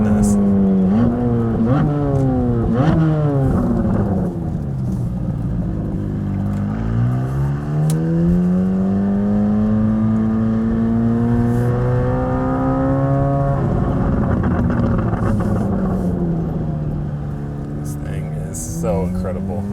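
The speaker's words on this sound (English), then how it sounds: "That is your nice little stock exhaust test so you can hear what it sounds like." Stock exhaust on a Chevrolet Corvette C8 Z06 revving loudly and close, the engine note rising in several quick blips, then sweeping up and down in long sustained pulls, with talk over the top.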